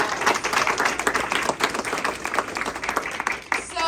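An audience at a community meeting claps steadily for several seconds, a dense, continuous burst of applause with a voice briefly audible at the end.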